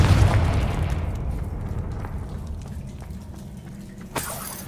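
Spell blasts from Bombarda and Confringo in the Hogwarts Legacy video game make a dense, sustained rumble of explosions, with a sharper crack near the end.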